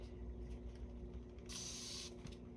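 An aerosol can gives one short hissing burst of spray over a resin coaster, quick and close against a quiet, faintly humming room.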